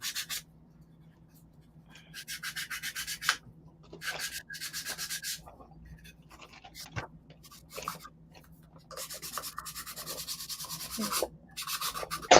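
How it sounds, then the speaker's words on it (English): Rough cheap Dollar Tree wooden doll furniture sanded by hand, soft close scratchy strokes in separate bursts of a second or so, separated by quiet gaps. "So I'm sanding off. You should always sand."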